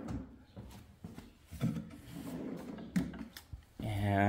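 The long drawer of a dragon-themed table sliding open after a two-button unlock, with soft wooden knocks and scrapes that end in a louder rumbling slide.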